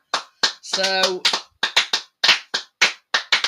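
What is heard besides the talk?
round of applause, clapping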